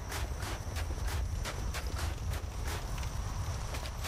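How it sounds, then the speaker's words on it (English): Footsteps in the video game Dark Souls land as a steady, regular series of hard thuds over a dense rumbling background, fairly loud and evenly paced, with no one speaking. "I can still hear footsteps."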